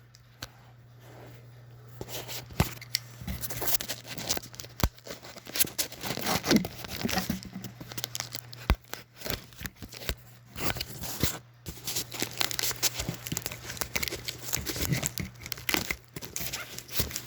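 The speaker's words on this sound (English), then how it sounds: "And of course I gotta cut the tape on this box too." A blade cuts packing tape on the cardboard box of a Gemmy Christmas inflatable, making close crinkling, tearing and scraping noises in irregular bursts.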